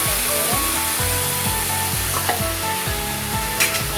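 Amaranth leaves being stirred into lentils frying in a pan, with a steady loud sizzle and repeated scraping strokes of a spoon at a regular rhythm, close by with no talking.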